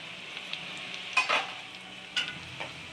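Urad dal, mustard seeds and cumin frying in hot oil with dried red chillies and garlic for a broad bean, coconut and peanut stir-fry: a steady close sizzle with a few sharp stirring clicks and scrapes, no voices.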